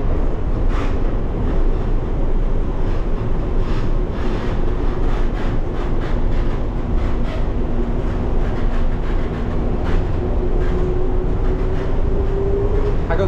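A monorail train in Kuala Lumpur rolls along with a steady, loud, close rumble and rattle, a faint whining tone rising slowly underneath throughout.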